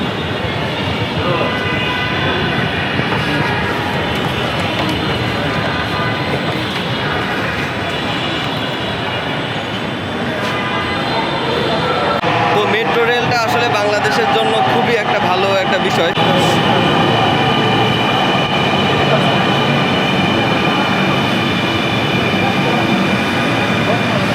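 A Dhaka metro rail train runs loud and steady as a continuous rumbling roar of wheels and car noise heard from inside, with voices talking over it throughout.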